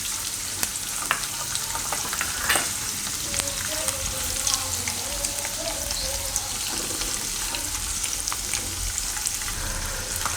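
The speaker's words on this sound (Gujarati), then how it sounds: "તો થોડીક વાર એને ફેરવી લેવાનું તેલમાં. કાજુ ને સિંગદાણા થોડાક બ્રાઉન જેવો કલર થઈ જાય ત્યાં સુધી." Cashews and peanuts frying in hot oil for poha, a steady dense sizzle with occasional stirring scrapes throughout, fairly close and continuous with no talk.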